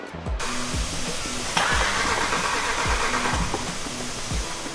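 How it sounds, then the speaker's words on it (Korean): An imported lease car's engine cranking without catching, a loud rhythmic starter-motor churn pulsing about twice a second, steady and close, never firing up. "여러 가지 확인을 했는데 시동이 계속 안 걸렸어요"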